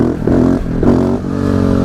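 A motorcycle engine revs hard while the rider pulls a wheelie on a cold, wet road, with two rising surges over a steady loud drone, close and with no speech.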